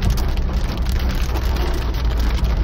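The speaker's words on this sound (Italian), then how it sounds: "sono arrivata a Milano e c'è una pioggia che cioè non si vede proprio niente" Heavy rain pounds on a car in Milan, a dense, loud, constant drumming roar heard from inside the vehicle, steady throughout with no pauses and no voices.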